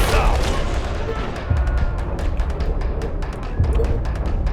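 Video game turrets firing in quick repeated bursts of sharp cracks, with heavier booms and rumble underneath, loud and busy throughout with a voice talking at times.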